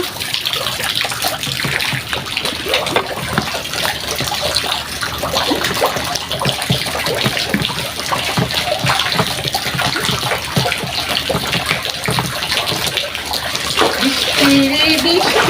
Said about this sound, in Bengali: তো আমি এখানে পানি দিয়ে খেলাধুলা করবো